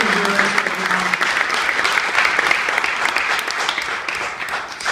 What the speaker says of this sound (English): so if we could just give a big round of applause.